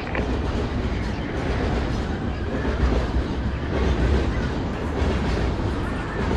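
Train in the Call of Duty: Ghosts video game, a loud, continuous rumbling roar with a rhythmic clatter of wheels on rails throughout.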